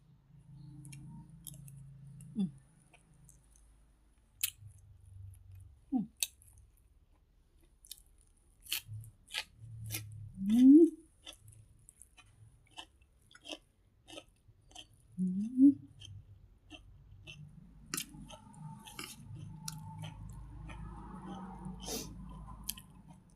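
Rice with Thai chili paste chewed close up, with soft squishy mastication, sharp scattered clicks and a few louder wet bites spread across a quiet background.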